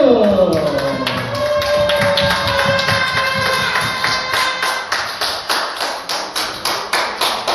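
Rhythmic clapping from a small group, growing into steady even claps, with a sustained tone fading at the start.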